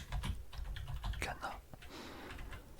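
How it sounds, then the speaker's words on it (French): Soft, close typing on a computer keyboard clicks in quick irregular bursts while a quiet, whispery voice speaks over it. "Je vais vous faire un teasing et des bruits de clavier d'ailleurs."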